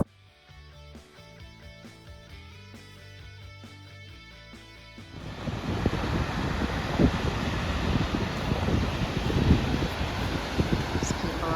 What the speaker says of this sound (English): right now we're at our last waterfall of the day